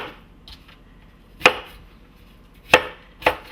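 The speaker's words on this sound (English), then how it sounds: "Chop those up." Knife chopping fruit on a board for a fruit salad, three sharp, separate thuds spaced irregularly, close and clear, with quieter cutting sounds between them.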